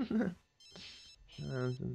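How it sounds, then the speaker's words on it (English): A telephone rings inside The Sims 3 life-simulation game, two bursts of bright electronic trilling separated by short gaps, with speech-like voice sounds around and between the rings. "And now my phone's ringing."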